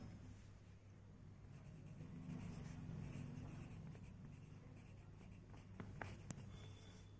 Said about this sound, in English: So I am writing my experience